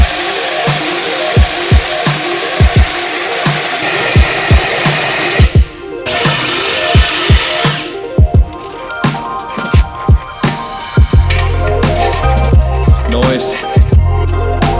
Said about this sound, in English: So we gotta drill a hole big enough for this tube to make a sleeve out of.